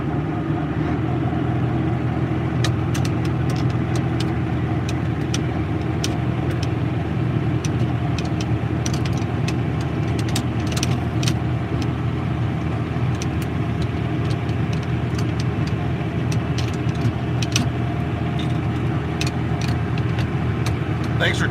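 John Deere 8850 V8 tractor engine running after startup, a constant loud, deep rumbling idle with steady mechanical clatter close by, unbroken throughout.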